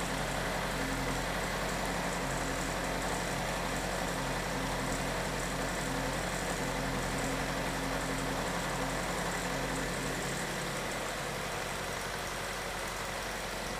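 A car engine idles steadily after being started during a variable valve cam timing diagnosis, a constant low hum with no change in pitch, faint and continuous throughout.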